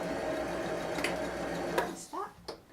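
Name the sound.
sewing machine doing a back stitch on a skirt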